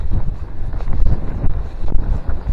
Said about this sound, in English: That's a strong old wind.